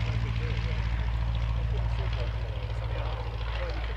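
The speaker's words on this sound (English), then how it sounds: "The 1912 Blackburn Type D monoplane." A 1912 Blackburn Type D monoplane in flight, its engine giving a steady, loud, low pulsing drone with a rapid regular beat throughout, while a voice talks over it.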